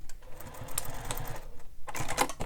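Home sewing machine stitching a curved seam on a bag panel one stitch at a time, with short bursts of needle clatter broken by brief pauses as the presser foot is lifted, close and moderately loud.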